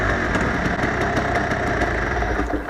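A motorcycle engine idles steadily with the choke just switched off, the idle settling to around 1500–1800 rpm. The rumble is close and loud, continuous and even, with a faint ticking rhythm and no talk.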